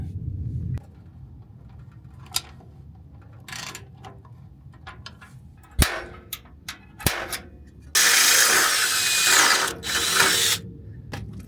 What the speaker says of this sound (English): Now we're going to put this bolt on, tighten it up.